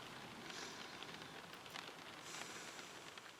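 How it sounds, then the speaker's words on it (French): Rain patters on a car from inside the vehicle, a steady, soft, dense hiss of drops on the roof and windows with no voices. "Dans la voiture. Sous la pluie."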